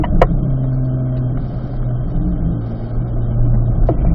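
A car drives hard around a race track in a steady, loud engine drone from inside, holding a constant pitch with brief clicks and no talking.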